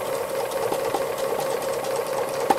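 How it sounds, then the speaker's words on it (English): A sewing machine stitches free-motion embroidery on a boxing hare flower hanging, a steady close mechanical whir with a fine rapid needle pulse, running continuously and alone. "So we just slowly stitch back and forth, don't do it too fast."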